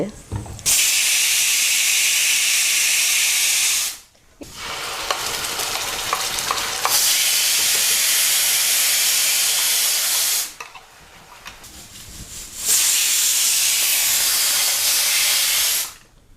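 Oil for fish curry sizzling in a pan, loud hissing bursts that flare up and die down in long stretches, with quieter gaps between them.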